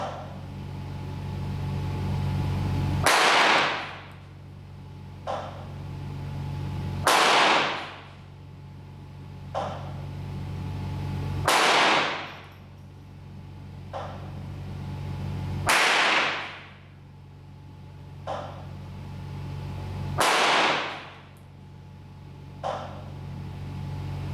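Ten-shot group of rifle fire using American-made Winchester bulk ammunition, sharp loud cracks repeating every few seconds, each followed by a softer echo or secondary report, with a steady hum between shots.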